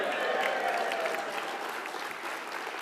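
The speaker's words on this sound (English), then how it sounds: "Two rounds of applause, my first minute." Conference audience applause for a first-time speaker at a Liberal Democrat conference, a dense wash of clapping from a large hall that gradually fades.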